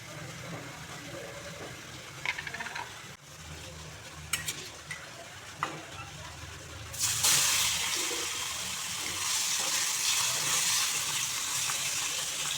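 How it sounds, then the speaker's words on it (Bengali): Shing fish frying in mustard oil. Intermittent clicks and scrapes from the pan come first, then a loud, dense, continuous sizzle swells up and holds steady close by, with no talk. "প্রথমেই আমি মাছগুলোকে ভেজে নিচ্ছি। রান্নাটা আমি সরিষার তেল দিয়ে করছি।"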